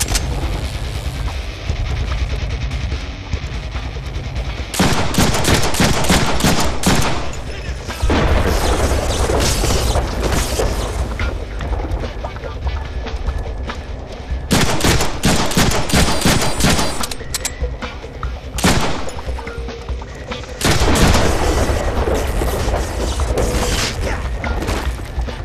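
Gunfire erupts in the Deadpool video game, loud dense bursts of rapid shots alternating with quieter stretches, with heavy booms throughout.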